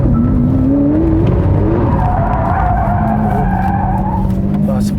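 Lamborghini Aventador S tires squealing and skidding as the car oversteers through a corner in Sport mode, a loud continuous screech over the roaring engine, with a voice talking over it.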